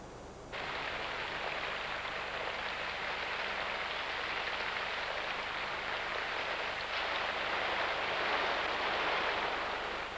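Steady rain falls throughout in the wild, starting abruptly after a brief quieter moment and continuing as a dense, even hiss of drops on surfaces, swelling slightly toward the end with no voices.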